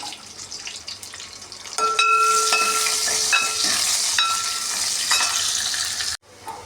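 Hot oil crackles and sizzles steadily as mustard and cumin seeds pop, with a few metallic stirring clinks, then the sound cuts off abruptly near the end.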